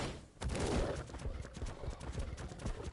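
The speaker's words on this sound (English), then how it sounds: "Oh, there are horses over here." Horses in the video game Ark Survival Evolved, a rapid, continuous clatter of hooves close by, moderately loud, with no talking.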